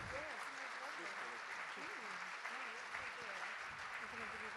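Audience applause during a live talk at a winter cinema event, a steady wash of clapping with voices and chatter audible over it throughout.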